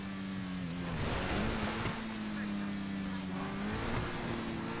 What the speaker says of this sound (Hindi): तो चलते हैं अपने घर भगाते हुए अपनी गाड़ी को